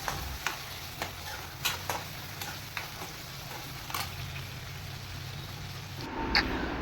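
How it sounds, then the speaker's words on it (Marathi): Onion and tomato sauté in a pan on the stove as the base for a cabbage dish, a steady close sizzle broken by light stirring taps, with a brief shift in the texture near the end. "मी आता टमाटर टाकते आणि टमाटर टाकल्यानंतर चांगलं परतू देते कांदा आणि टमाटर"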